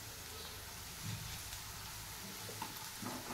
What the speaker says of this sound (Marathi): आणि आलं लसूण छान कांद्यासोबत फ्राय झाला आहे